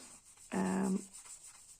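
A Faber-Castell Gelato silky crayon rubbed onto paper: a single brief, soft waxy rub lasting about half a second, close and quiet, with no talking.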